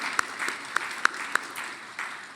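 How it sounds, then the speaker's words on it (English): Audience applause for young people at a school campus tribute event, a soft, thin patter of clapping with a few sharp individual claps standing out close by, steady for a couple of seconds. "So a round of applause to the young people."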